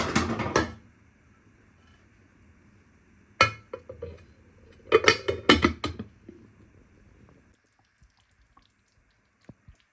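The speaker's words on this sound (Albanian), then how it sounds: "E marrim kapakun e tavës, e mbyllim edhe e fusim me njerë tavën brenda në furrë" A baking dish lid clanks shut and the covered dish is slid into an oven, giving a few sharp metallic clinks and clatters separated by quiet gaps, with faint ticks at the end.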